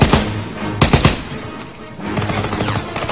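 Machine gun fire in the Call of Duty: WWII mission Hill 493 rattles out as loud, close bursts of rapid shots, stops briefly, then resumes as a denser stretch of gunfire.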